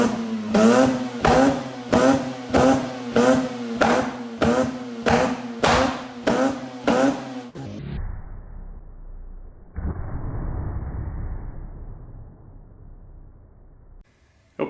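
A Mazda RX-8 rotary engine revs hard in a rapid series of about a dozen loud bursts, then drops to a low rumbling idle with a brief whooshing swell.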